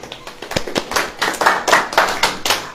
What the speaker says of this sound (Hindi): ताली बजाइए, ताली।